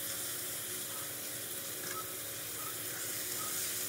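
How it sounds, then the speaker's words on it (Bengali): Diced potatoes frying in a pan while cooking a spicy baim fish bhuna; a steady, bright sizzle and hiss fills the whole stretch with no talking. "আমি একটা আলু কেটে নিয়েছিলাম, ডুমো করে আলু কটা আমি এর ভিতর দিয়ে দিচ্ছি।"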